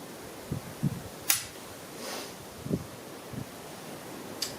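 Trigger break of a Weatherby Element II 12 gauge shotgun: a few sharp, isolated clicks spaced across a quiet background, close and fairly faint.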